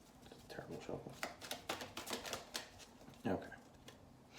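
Tarot cards being shuffled by hand in quick riffling bursts, crisp and close, repeating several times with soft speech alongside.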